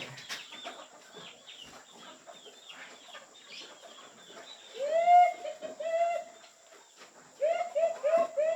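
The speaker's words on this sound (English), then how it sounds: "When I got to feed them chickens real quick here." Several chickens cluck and murmur nearby in short, rising and falling calls, growing louder in bursts toward the end.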